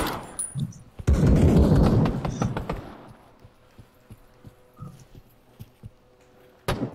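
A full magazine emptied from a gun in the Pavlov VR zombie mode, a close, loud burst of rapid automatic fire lasting about two seconds, followed by scattered single shots and clatter, with another sharp report at the end.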